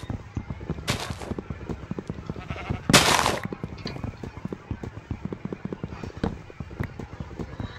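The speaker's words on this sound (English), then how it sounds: "That's a sheep." Sheep bleat in the Minecraft video game, with a couple of short bleats standing out over a steady run of rhythmic in-game footstep clicks, and no talking.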